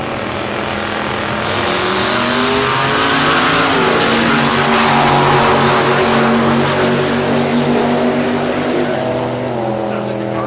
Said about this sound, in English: sounds like the car's okay